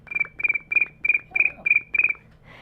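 A human voice imitates cricket chirping, producing seven evenly spaced rapid chirp bursts with a steady rhythm, close and clear, with no other talk.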